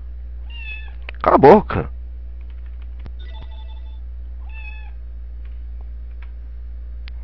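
A house cat meows several times, a few short, close, high cries spaced across a quiet room with a low hum, while someone briefly shouts over it.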